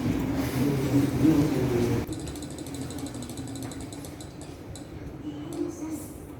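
A randomizer wheel spins to choose a group name in a classroom, giving a fast ratchet-like clicking that runs steadily for several seconds after an initial burst of room noise.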